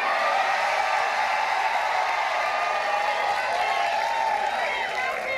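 Dense crowd cheering and applause fill an election victory rally for Democrats in New York, a steady loud roar of voices and clapping that holds throughout without a break.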